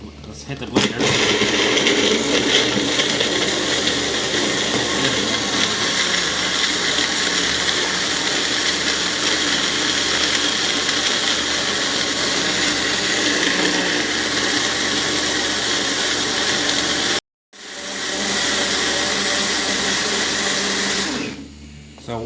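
A blender whirring through a blueberry and coconut milk smoothie, a loud, steady motor drone with churning liquid that runs continuously, cuts out briefly, then resumes before stopping.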